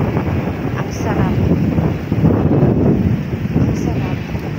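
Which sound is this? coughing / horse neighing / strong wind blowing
strong wind blowing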